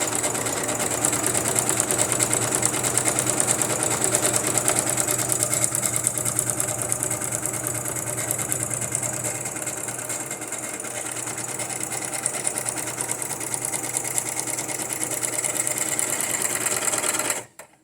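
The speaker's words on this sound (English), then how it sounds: "Gotta keep up with the sewing machine." A sewing machine stitches paper and fabric scraps steadily for a long stretch with a continuous close mechanical whir and rapid clatter, then stops abruptly at the end.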